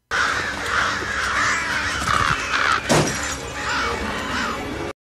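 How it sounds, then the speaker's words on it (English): Crows caw loudly and repeatedly around a house in a scene from the horror film The Conjuring, their harsh calls overlapping as birds strike the walls, with a sharp crash of impact in the middle. "The birds. Committing suicide against the side of the house."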